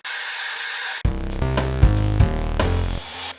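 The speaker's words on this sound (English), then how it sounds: "I'm just going to drill the first hole. I'm going to hold the hoover up to it" Electric drill boring a pilot hole into a wall to fit a shower rail riser bracket, with a hoover held up beside it to catch dust; a steady vacuum roar gives way to loud, uneven drilling bursts and grinding.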